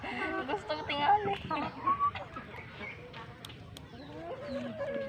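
Chickens cluck on a farm in Baybay City, Leyte, with several birds calling close by in a busy, overlapping chorus while people talk throughout.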